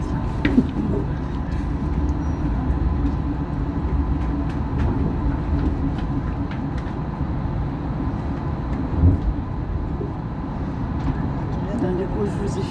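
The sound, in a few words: Tokyo monorail train running between stations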